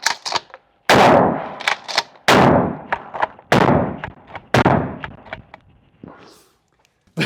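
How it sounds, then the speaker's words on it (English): A pump-action shotgun fires at a gun range with several loud, sharp blasts spaced a second or so apart, each followed by a short decay, with mechanical clacks between shots. "now we've got the shotgun pump action"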